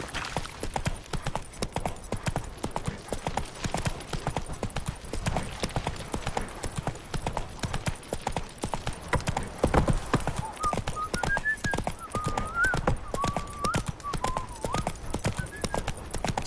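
Rapid horse hooves clatter steadily throughout, and a horse whinnies near the end, all fairly close and continuous, in the video game The Witcher 3: Wild Hunt.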